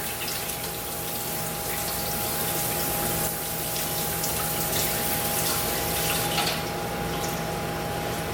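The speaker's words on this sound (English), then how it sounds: "And just douse it in cold water." Cold tap water runs steadily into a sink, rinsing cooked noodles for Korean jajangmyun; a continuous close gush with a faint pump-like hum beneath and no talking.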